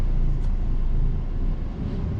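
Car engine accelerating during a driving lesson, a steady low rumble with road noise that holds at close range for the whole stretch, no voices.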